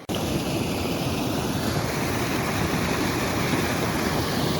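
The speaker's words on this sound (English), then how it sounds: "That waterfall looks very good." A river waterfall pours steadily in a constant, broad rushing roar that stays even and fairly close throughout, with no voices over it.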